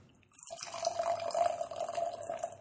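Beer poured from a can, a soft liquid stream starting after a brief quiet and running on with a faint ringing tone, fairly quiet and close.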